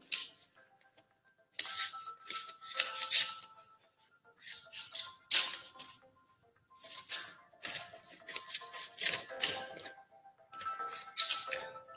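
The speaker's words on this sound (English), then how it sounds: "I'm just cutting down the teeth for you." Scissors snipping scrap paper into sharp teeth shapes, close and crisp, in irregular bursts of quick cuts separated by short pauses, with faint paper rustling between.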